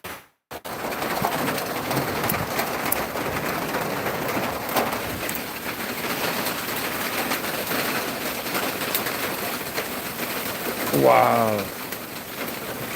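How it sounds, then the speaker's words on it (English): Big raindrops drum on a tin roof in a dense, steady patter, with one short voice exclamation and a brief chirp near the end. "Some big ass raindrops just decided to start falling. Tin roof!"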